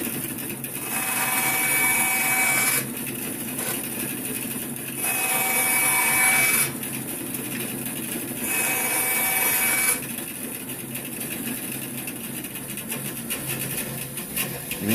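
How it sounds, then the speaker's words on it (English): A bandsaw cuts sheath insert material in several passes, each a few seconds long: a close, rasping, buzzing whine over a steady motor hum, stopping between cuts with no talk. "we can cut what we need on the bandsaw"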